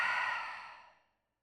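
A single slow, airy exhale through the nose during a yoga breathing cycle. It starts fairly strong and fades away smoothly over about a second into silence.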